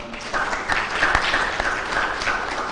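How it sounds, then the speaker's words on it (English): Audience at a customer care clinic event applauding, a steady wash of clapping that holds for nearly three seconds with no voices over it. "the biggest round of applause actually goes to your audience"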